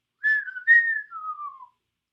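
A person whistles to imitate bird song: three clear, close tones, the first two short and bright, the last a longer note gliding downward, then silence.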